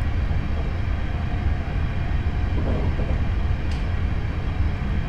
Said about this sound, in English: I have now idled the power at 65 miles per hour to allow the train just to coast along here.